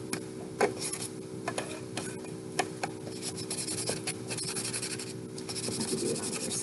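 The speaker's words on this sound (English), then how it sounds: "I want to do a very definite horizontal sanding pattern" Sandpaper is worked in horizontal strokes across a small necklace piece, giving a continuous faint rasping scratch with irregular ticks and bumps, close up and without voices.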